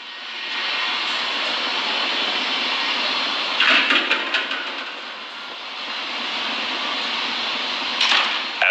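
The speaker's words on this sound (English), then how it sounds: "That Falcon 9 rocket is now throttling back up to full speed as it ascends through the atmosphere." SpaceX Falcon 9 rocket engines roar during ascent through the atmosphere, a steady, distant broadband rumble with brief crackling bursts partway through and again near the end, no voices.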